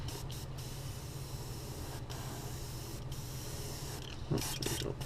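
Airbrush sprays moss green paint onto a crankbait fishing lure with a continuous steady hiss, briefly broken by short gaps and a louder sputtering burst near the end as the airbrush clogs.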